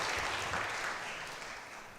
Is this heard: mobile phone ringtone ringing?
no